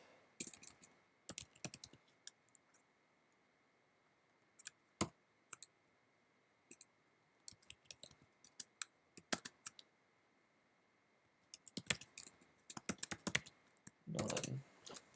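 Typing code on a computer keyboard, bursts of quick clicky keystrokes separated by pauses, close and clear with no talk, ending in a denser flurry of keys.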